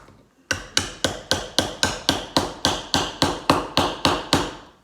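Steady, evenly spaced hammer blows, about a dozen sharp strikes in a row with a brief quiet start, close and loud with no talk.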